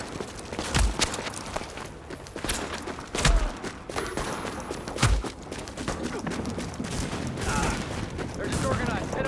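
Rapid bursts of gunfire in a video game firefight in The Division, several sharp loud shots punctuating a continuous noisy battle bed with footsteps and movement.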